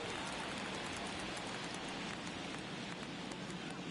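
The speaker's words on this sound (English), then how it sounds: "It's a steady but playable rain here at Busch." Steady rain pours down at Busch Stadium in a baseball video game, a dense, even hiss that fills the whole stretch without a break, with faint crowd murmur beneath.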